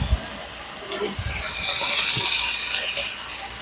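Pork chops seasoned with salt and pepper browning in a hot pan: a few soft thumps, then a steady, fairly loud sizzling hiss that swells and holds to the end, with no voices.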